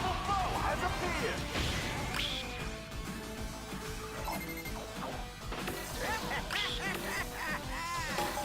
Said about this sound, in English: I'm seeing ducks on my screen right now.